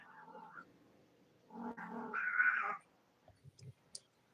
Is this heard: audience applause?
no